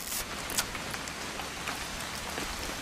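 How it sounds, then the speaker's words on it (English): Steady rain in the video game What Remains of Edith Finch, a dense continuous patter of drops on surfaces with a few sharper splashes, no voices. "It's gonna rain the whole weekend, isn't it?"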